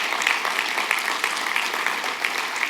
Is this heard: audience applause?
yes